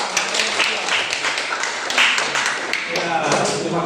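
Students applaud in an Indonesian classroom during a group-work lesson, a dense patter of hand claps over a few seconds with voices and room noise mixed in.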